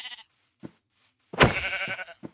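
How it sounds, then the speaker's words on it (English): Sheep bleating in the Minecraft video game, a short isolated in-game bleat followed by a longer wavering bleat, close and clear against near silence. "But I can eat sheep."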